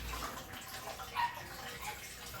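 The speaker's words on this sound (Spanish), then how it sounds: "ya vemos que hay flujo de agua, sale con buena presión, tanto el agua caliente como el agua fría" Water runs steadily from a newly installed shower mixer tap, hot and cold lines at good pressure, a continuous close hiss and splash with no talking.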